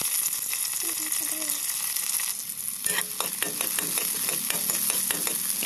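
Garlic and onion sizzle and crackle in oil in a pan while a string bean, tofu and pork dish is cooked, with stirring scrapes and brief clicks over the steady frying hiss.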